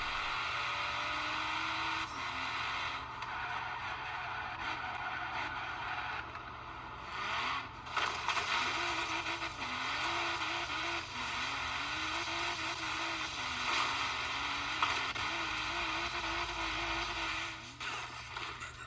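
Racing game car engines streamed through Xbox Cloud Gaming drone steadily throughout, the pitch climbing and dipping with revs and gear shifts, a constant mid-loud whine with occasional scraping.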